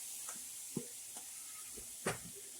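Mushrooms being tossed into a hot pan give a soft, steady sizzle, with a few brief stir and clatter accents on top, no speech.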